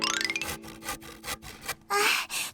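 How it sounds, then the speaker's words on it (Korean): A handsaw cuts through wood for a raft in rapid back-and-forth rasping strokes, with several distinct louder strokes toward the end, up close and alone. "톱질이 생각보다 쉽지 않네."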